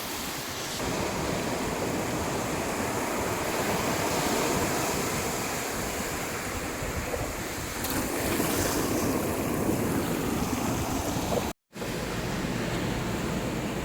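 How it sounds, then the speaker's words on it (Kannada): Continuous roar of ocean surf breaking on a shore at Cheru Rock Beach, Kannur, broad and steady with gusty wind noise on the microphone and a brief dropout near the end. "ಅಲೆಗಳ ಸೌಂಡ್ ಅಂತೂ ನಿಲ್ತಾನೆ ಇಲ್ಲ"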